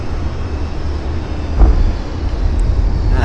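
A Mirage F-1 jet in a flight simulator game runs with a low steady engine rumble as it throttles back for landing, with a brief louder thump partway through and no talking.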